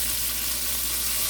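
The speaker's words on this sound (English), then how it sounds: "I put in the okra, onions, and green onions, and let those saute a bit." Okra, onions and green onions sautéing in a hot pan give a steady, close sizzle and crackle with no talk.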